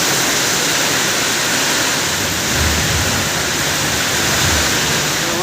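Heavy monsoon rain pouring down continuously, a loud dense wash of hiss with no breaks and no voices.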